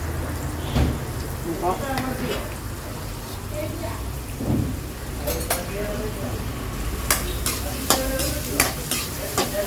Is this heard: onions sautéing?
yes